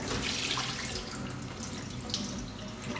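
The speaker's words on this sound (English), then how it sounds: "Be careful not to wash it now because you can break the grains. Just rinse off carefully." Tap water runs steadily in a continuous, even splash as soaked rice is rinsed in a bowl, with no pauses or talk.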